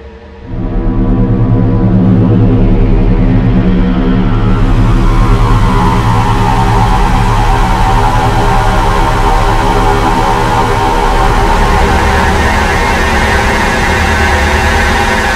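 A growling synth bass patch built in Native Instruments Massive, a loud dense sustained buzzing tone that swells open in brightness after a second and holds with a gritty, noisy texture, no voices over it.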